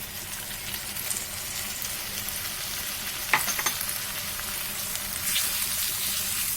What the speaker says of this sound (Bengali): যে পেঁয়াজটা ভাজা ভাজা হচ্ছিল আমি পেঁয়াজটাতে দিয়ে দিব মশলাটা